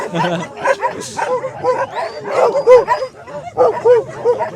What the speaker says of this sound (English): As soon as like one starts barking, they all start barking.